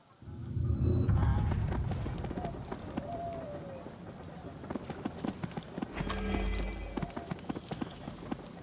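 Horse hooves clip-clop steadily during riding in Disciples: Liberation, a rhythmic trotting patter at moderate distance over a soft ambient bed, with a voice speaking briefly over it.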